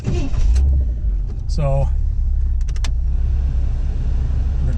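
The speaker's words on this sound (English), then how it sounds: "I'm going to take a test drive then on that 1978 Corvette pace car replica" A 1978 Chevrolet Corvette pace car replica, 25th anniversary edition, rumbles steadily from inside the cabin on a test drive, with a brief whirring power-window sound and clicks as someone speaks briefly.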